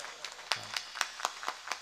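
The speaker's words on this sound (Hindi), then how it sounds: "एक बार ताली बजाएं उन मेरी बहन के लिए" A small audience at a live stage programme clapping for a woman, faint, quick, uneven claps spaced evenly in a brisk rhythm, brief and fairly distant.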